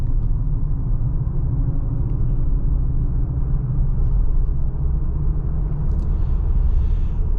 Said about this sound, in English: the V6 definitely sounds nicer than a turbocharged 4-cylinder does